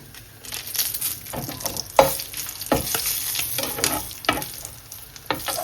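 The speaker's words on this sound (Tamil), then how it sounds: "இப்போ காஞ்ச மிளகாய் 4 பொரிக்க போகிறோம்." Four dried chilies frying in hot oil, a steady crackling sizzle with occasional louder pops and stirring scrapes, close up, no voices.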